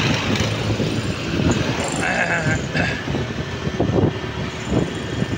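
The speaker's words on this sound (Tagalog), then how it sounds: "pinapakita ko habang tumatakbo yung aking motor" A motorcycle rolls along slowly at about 20 km/h, its engine droning steadily under heavy road and wind noise while the rider talks.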